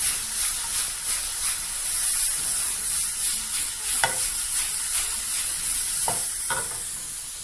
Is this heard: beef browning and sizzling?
yes